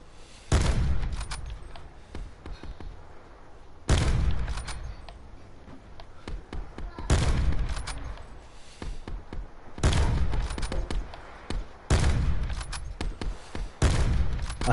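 Heavy gunshots from a weapon in a multiplayer shooter video game ring out in about six loud, booming bursts spaced a few seconds apart, each with a long rumbling tail, and no voices are heard.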